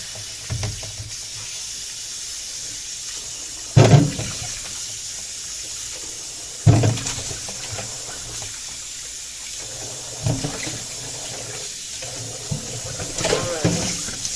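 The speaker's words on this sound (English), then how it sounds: "You have to wash your potato very well." Sliced potatoes are washed by hand in water at a sink, with steady running-tap hiss and a few louder splashes and sloshes as the slices are moved, fairly close and without talk.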